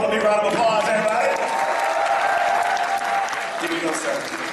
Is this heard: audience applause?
yes